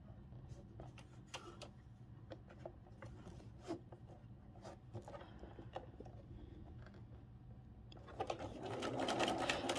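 A sewing machine stitches quilt hexie pieces in short, rapid bursts of mechanical chatter with brief pauses between runs, rising into a louder, denser whir near the end.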